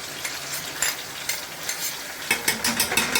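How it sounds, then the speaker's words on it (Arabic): Small diced onion sizzles loudly in hot oil and butter with a bay leaf, a dense steady frying crackle broken by repeated scraping strokes of a utensil stirring the pan, close up with no talk. "البصلايه اهي بتتشوح مع الزبده ورقه اللورا"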